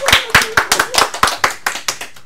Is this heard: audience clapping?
yes